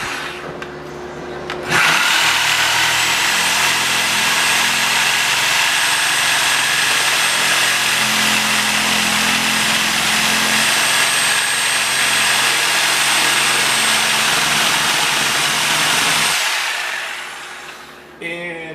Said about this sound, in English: So now I'll take the sawzall and finish up this little tiny cut here.